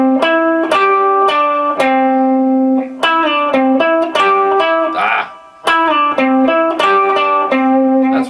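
Electric guitar riff, distorted, with sliding bends and barred double-stop notes picked in a quick melodic phrase, loud and close, with a brief dip midway.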